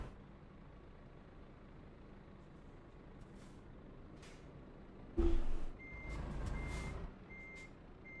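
Reversing beeps from a truck in Euro Truck Simulator 2, set against a steady low engine hum, with a louder burst of air-brake-like hiss and rumble near the end; the beeps are thin and intermittent rather than prominent.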